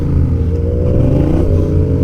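Motorcycle with a CP2 parallel-twin engine revving under acceleration while riding, a loud, close, continuous engine roar with steady low rumble and slight pitch swells.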